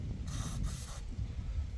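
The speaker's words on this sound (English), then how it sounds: "I'm going to spray a little bit up under here." Spray lubricant hisses from an aerosol can onto the mechanisms under an RV camper, two short close bursts of airy spray with a faint low rumble behind.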